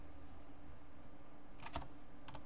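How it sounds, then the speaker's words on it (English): Computer keyboard typing while writing Unity code: a brief quiet cluster of several key clicks near the end, over a steady low room hum. "typing"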